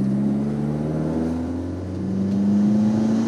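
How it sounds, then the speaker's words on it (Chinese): Proton Saga 1.3L FLX fitted with an aftermarket turbo accelerating under heavier throttle, a steady close engine drone with rising tone, no talking over it. "现在稍微踩大油门。"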